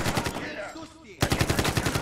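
Rapid automatic gunfire in the video game Medal of Honor, dense bursts of sharp, evenly spaced shots that stop briefly and then resume just as loud and fast, with no voices.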